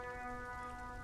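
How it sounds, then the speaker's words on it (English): Steady rain falling in the video game Disco Elysium, a soft continuous patter under a sustained musical drone, with no talking. "While it's raining as well, very nice. Atmospheric and all."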